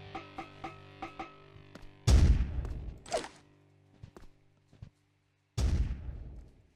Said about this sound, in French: Je vais quand même bien voir l'explosion de la grenade